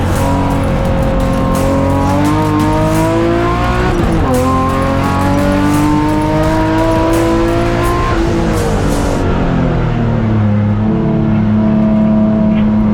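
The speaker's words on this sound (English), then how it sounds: "So Reynolds from Miller, Miller from Hapst, Hapst from Naidu. As they go down into turn 6" BMW race cars in a track race, with loud engines revving and shifting close by as the cars roar through a turn, the pitch rising and falling and tires squealing, under continuous engine noise.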